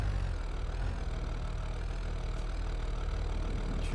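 A Jeep's six-cylinder engine in the BeamNG driving game idles and rumbles low and steady, a constant deep drone with no talk.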